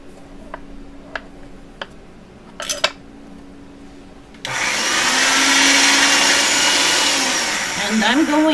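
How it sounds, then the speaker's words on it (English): Polymer clay mix for a winter-themed pen cane rolled through a pasta machine: a few light clicks and taps, then a sudden, loud, steady whirring grind that runs continuously for about four seconds, close by. "Let me get it to the pasta machine once."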